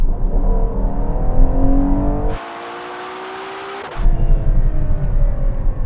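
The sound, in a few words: SUVs accelerating off the line in a drag race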